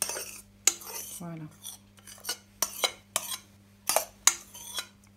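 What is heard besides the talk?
folding egg whites into a mixture in a bowl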